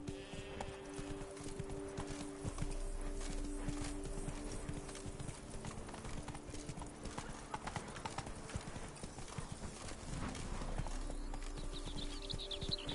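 Horse hooves clip-clop continuously during riding in The Witcher 3: Blood and Wine, a brisk, regular gait heard close over steady music and ambient game sound for the whole stretch.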